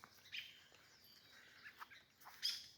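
Small birds, a robin among them, chirp outdoors in short scattered calls, a few brief bright notes rising over quiet background hiss, with no talking.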